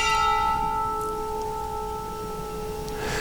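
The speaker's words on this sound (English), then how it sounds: "I'll wait for the last bell." A bell rings once at a spiritual gathering, its sustained tone lingering and slowly decaying over a few seconds of quiet.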